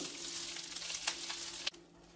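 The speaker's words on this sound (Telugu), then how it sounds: "కర్రీ లీవ్స్ ఫ్రై చేసుకుంటున్నాను" Curry leaves fry in a little oil, a close, steady hiss and crackle with small pops, ending abruptly as the sizzle drops away.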